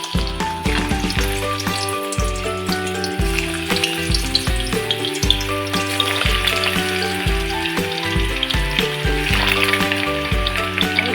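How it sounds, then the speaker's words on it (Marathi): Slices of raw banana frying in hot oil for chips, a loud, dense, continuous bubbling crackle close up, with no talking. "हे बघा तेल आपलं छान असं तापलेलं आहे त्याच्यामध्ये आपण केळी वेपर्स ठेवूया"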